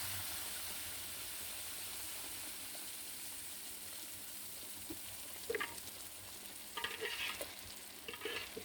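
Chopped onion sizzles steadily in hot oil in a pan for Egyptian bessara, with scattered scraping stirs toward the end and no voices.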